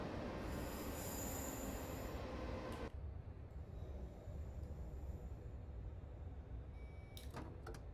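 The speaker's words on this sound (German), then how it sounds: "man merkt richtig, die Taurusse müssen ordentlich powern" Train Simulator 2017 RailJet on the Arlberg Pass, pulled uphill by Taurus locomotives: steady rumbling rail noise with high wheel squeal that cuts off abruptly, then continued rolling and a few sharp metallic clanks near the end.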